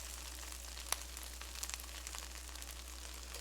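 Bologna frying in a pan gives a soft, steady sizzle with faint crackles and one sharp pop near the start, quiet and without talk, over a constant low electrical hum.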